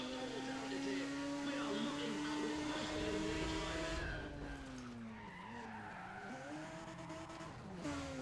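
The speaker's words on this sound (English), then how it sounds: "Don't mind a little skids for the kids." Tires squeal and skid in the NFS ProStreet racing game, a sustained high screech with a bending pitch over a droning engine, steady and fairly close, with someone talking over it.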